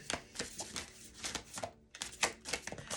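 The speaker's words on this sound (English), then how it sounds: "They are honestly the hardest cards in the world to shuffle" Cards being shuffled in quick riffling bursts with short pauses between, close and fairly quiet, no talking.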